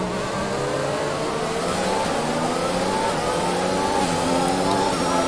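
An F1 car in the racing game F1 2021 on the Singapore street circuit drops down through the gears under braking, the engine note stepping down in pitch repeatedly amid steady loud engine noise.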